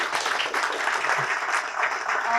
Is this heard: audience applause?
yes